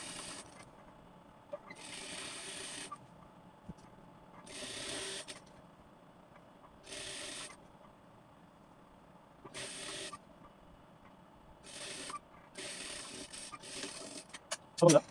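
A sewing machine stitches a petticoat waistband in repeated short whirring bursts of one to two seconds, separated by pauses, fairly close and moderately loud.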